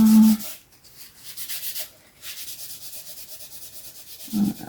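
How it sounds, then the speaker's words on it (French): Dried glue being rubbed off paper with a finger during an art journal craft, heard as soft, close scratchy friction strokes that come in short bursts, stop briefly and then run on steadily without any talk. "l'avantage de cette colle, c'est que hop, elle fait des petites boulettes quand on la frotte"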